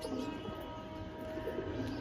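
Big-sized Giribaz pigeons cooing softly in a steady low murmur, faint and continuous against background hiss, with no talk.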